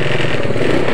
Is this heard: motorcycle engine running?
yes